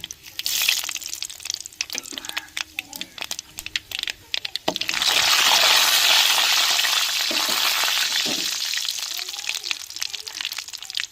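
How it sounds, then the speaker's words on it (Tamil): Mustard seeds and urad dal hit hot oil in a pan on the stove, giving a loud, steady crackling sizzle that surges midway and carries on to the end, with scattered pops beforehand. "எண்ணெய் சூடாருச்சுங்க கடுகு போட்டுக்கிறோம் உளுந்து சேர்த்துக்கிறோம்"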